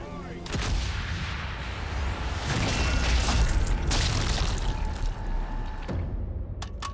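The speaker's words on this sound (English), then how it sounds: "I wonder when the gun battery is actually going to fire again" A coastal gun battery fires in Sniper Elite 5, sending out heavy rolling booms and crackling blasts that stay loud and close for several seconds, with a voice talking now and then underneath.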